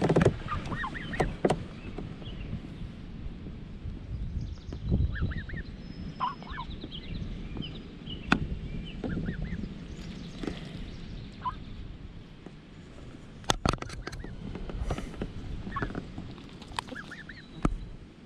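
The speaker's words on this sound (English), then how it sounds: "So these are two Canadian geese, really young ones." Two very young Canada geese beside the water giving soft, scattered peeping and chirping calls, faint and fairly near, with occasional knocks and bumps around them.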